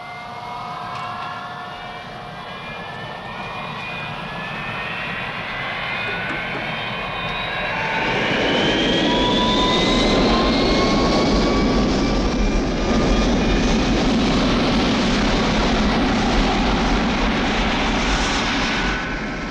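Avro Vulcan jet bomber flying in a James Bond film scene, a steady engine roar that swells louder and nearer about halfway through, with whining jet tones sliding over a broad rumble and no talk.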